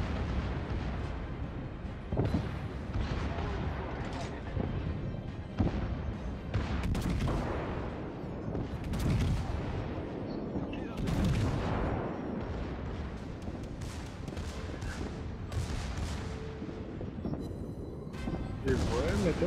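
Warship guns firing and shells bursting in World of Warships battle, repeated deep booms and crackling impacts layered over a steady roar, with someone talking intermittently over the combat.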